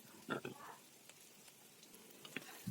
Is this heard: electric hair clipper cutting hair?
no